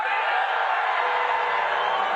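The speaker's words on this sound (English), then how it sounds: "People are already booing." Large crowd at a Libertarian convention booing Donald Trump, a steady loud wash of jeers and shouts holding evenly throughout without pause.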